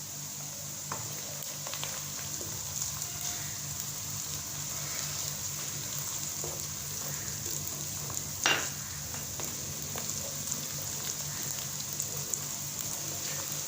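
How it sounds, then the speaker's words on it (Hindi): Onions and ginger paste fry in a pan, giving a steady close sizzle with a few scattered stirring clicks and one sharper scrape. "अदरक के पेस्ट को मैंने 1 मिनट फ्राई कर लिया है"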